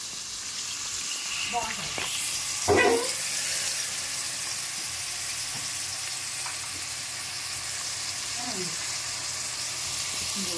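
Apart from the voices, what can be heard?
onions frying in hot oil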